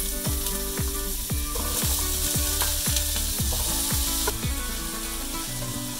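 Cut potatoes fry in oil in a pan, a bright continuous sizzle mixed with a run of quick rhythmic clicking and ratcheting taps close by, steady and fairly loud with no talking.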